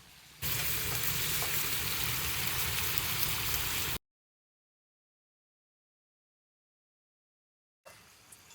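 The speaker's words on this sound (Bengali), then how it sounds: "কি মা, মাংস কষানো হয়ে যাচ্ছে?" Chicken meat being fried down in a pan over a wood-fired stove, a loud, dense, steady sizzle for about four seconds that cuts to silence, then briefly returns at the end.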